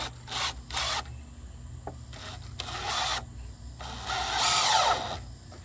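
A power drill drives a screw into the frame of a DIY barrel or equipment enclosure, with several short bursts of whirring stopping and starting, a longer final run, and light rubbing and handling noises between bursts.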